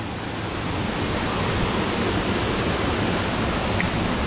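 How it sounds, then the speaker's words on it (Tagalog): A waterfall roars as a dense, steady rush of falling water, loud and close, with no other sounds. "dito lang kayo makakita ng buhay na waterfalls na talagang ibang klase"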